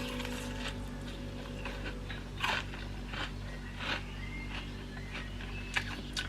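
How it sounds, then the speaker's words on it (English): Someone bites into extra crispy double-fried chicken, giving several sharp crunches close to the mic in an uneven rhythm over faint background hum, with no talking. "Time for a little crunch test."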